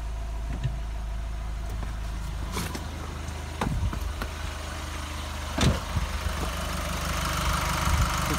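A diesel car engine idles with a steady, low rumble, continuous, with a few brief clunks and taps over the top.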